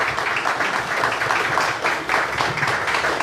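Sustained applause from an audience welcoming state deputy Leninha to the panel table at a political talk event, a steady even wash of clapping lasting throughout with no voices over it.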